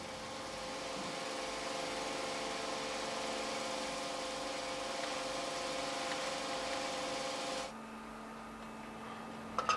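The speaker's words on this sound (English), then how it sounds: "The billet goes into a machine which squeezes and squashes it even more and cuts it up into hundreds of very thin" Pencil-factory machinery squeezing a wood billet and slicing it into thin strips makes a steady mechanical drone with a constant hum, which drops abruptly to a quieter tone near the end before a couple of short knocks.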